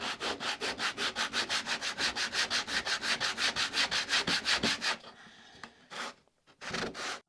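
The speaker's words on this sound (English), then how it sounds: "depending on how this sandpaper is working out for me" Sandpaper rubs back and forth over a broken snowboard in a fast, even rhythm of strokes, loud and close, then stops with a few scattered scrapes and a final short burst.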